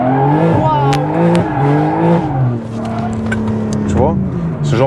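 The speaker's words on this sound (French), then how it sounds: "Tu vois, ce genre de véhicule, ça se conduit comme ça, en général." A car engine accelerating while being driven, its revving pitch rising and falling under steady conversation between people inside.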